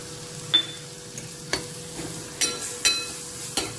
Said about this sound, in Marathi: हे लसूण आणि कांदा छान परतलेला आहे